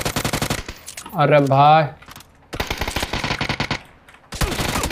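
Rapid bursts of automatic gunfire from the PUBG battle royale video game, loud and close, broken by a shouted voice in the middle before the firing resumes.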